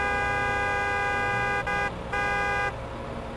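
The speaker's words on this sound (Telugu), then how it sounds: "సూపర్ స్పీడో హారన్ కొట్టు" A cartoon car horn honks in a long, bright, sustained tone with two short breaks, loud and close, over a faint low engine drone.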